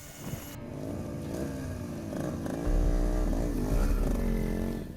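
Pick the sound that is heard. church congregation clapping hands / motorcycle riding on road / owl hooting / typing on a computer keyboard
motorcycle riding on road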